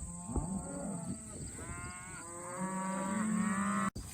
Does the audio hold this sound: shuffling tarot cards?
no